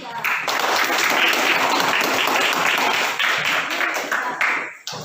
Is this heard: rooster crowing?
no